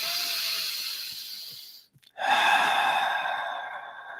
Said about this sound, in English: A few more deep breaths.